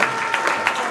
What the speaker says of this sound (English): So round of applause to Mr. Carl Young.